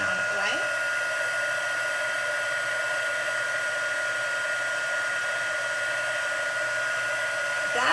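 A heat tool blows continuously at close range, a steady loud whirring hiss as it melts embossing powder on a stamped leaf congratulations card.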